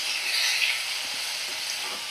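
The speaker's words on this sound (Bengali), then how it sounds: "এইভাবে পেঁয়াজ আলু দিয়ে দেখো আমি ভাজা করে নিচ্ছি" Onion and potato fry in a pan over a low gas flame, giving a soft steady sizzle with faint stirring touches and no talk.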